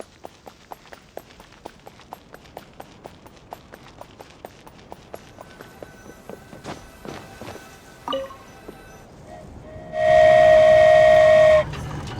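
Genshin Impact train: a steady run of light rhythmic clacks like wheels over rail joints, a few brief clunks, then a loud sustained steam-whistle blast near the end.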